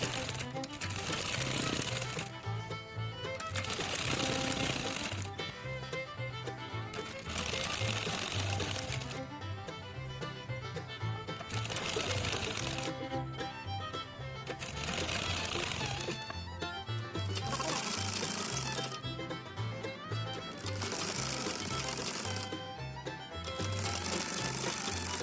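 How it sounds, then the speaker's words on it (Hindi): A sewing machine stitching a petticoat waistband runs close and loud in a steady rapid chatter. It comes in repeated bursts of a few seconds each, separated by brief pauses. "तो इसे बेल्ट पर सिलाई कर लेंगे"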